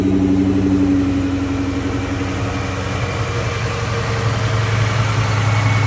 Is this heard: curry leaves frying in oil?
no